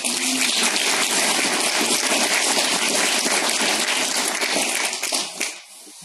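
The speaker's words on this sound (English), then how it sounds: "Round of applause for Martin." Applause from a live audience at a keto conference event, a dense, steady wash of clapping across the room that holds loudly for about five seconds before trailing off near the end.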